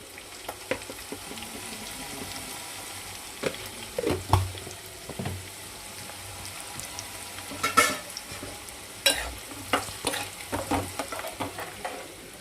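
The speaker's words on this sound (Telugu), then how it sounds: "అన్నీ మంచిగా ఫ్రై కానివ్వండి" Chana dal and urad dal frying in oil in a pan for mint roti chutney, a steady low sizzle with occasional stirring knocks and scrapes, close and moderately loud, with no talking.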